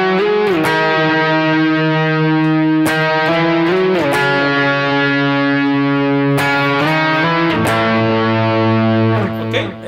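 An electric guitar with the distortion switched off plays the main melody of the worship song "Rey", with sustained clean notes gliding between pitches in a continuous, loud line.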